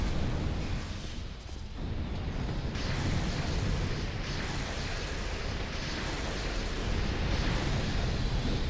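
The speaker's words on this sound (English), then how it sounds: "I'm going to die to the big electricity explosion because I can't do anything about it" A huge electric blast in a video game boss fight against King Vendrick, a loud, sustained roaring wash of noise that fills the whole stretch with a brief dip early on, no voices.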